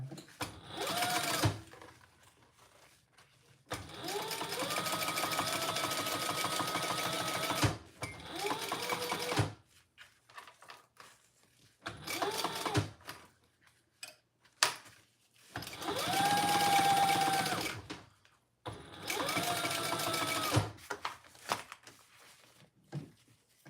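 A sewing machine top-stitches a Monarch Mini in several loud, sustained runs separated by pauses, with a steady mechanical hum and rapid needle chatter during each burst and softer handling noises between them.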